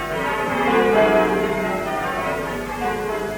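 Church bells ring steadily in a sustained, resonant peal, fairly loud and continuous with no voices over them.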